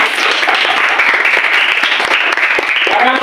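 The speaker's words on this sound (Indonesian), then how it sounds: "dengan semangat, kasih aplaus untuk semuanya" A classroom group of students applauding their classmates, a dense, loud burst of clapping close by that carries through the whole stretch, with voices mixed in.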